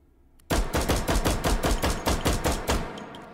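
Rapid pistol fire from an H&K Mk 23 fitted with a compensator in the H3VR virtual reality game: about fourteen sharp, loud shots in quick, steady succession, beginning abruptly after a short quiet moment and then ending.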